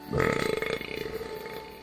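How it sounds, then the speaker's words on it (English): A cartoon woodpecker lets out a long, loud belch in a film, a single rasping burp with a rapid rattling pulse that fades over about two seconds. "Sorry, audience, that was an essential burp."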